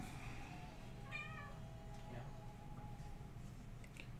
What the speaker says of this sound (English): Puggers, the special cat.